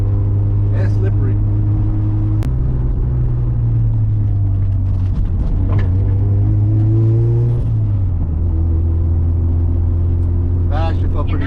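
A Mazda RX7 with a street/track camber setup drives along winding backroads, its rotary engine a steady loud drone that shifts pitch as it changes gear and speed, heard from inside the car with brief voices.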